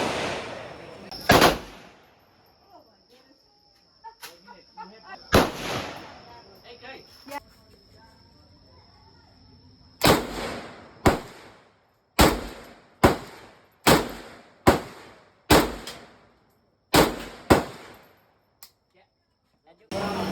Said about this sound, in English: we're gonna shoot an AK-47